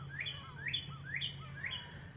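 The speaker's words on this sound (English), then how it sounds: "I like to come out here in the woods and just listening to the birds" A bird sings in quiet woods, repeating a short bright two-part whistled phrase four times at an even, unhurried pace, close and clear over a low steady background hum.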